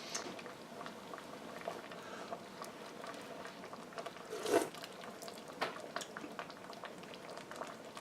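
Beef and senzu bean soup simmers gently in a pot, giving a quiet, continuous bubbling with soft ticks and one slightly louder pop partway through.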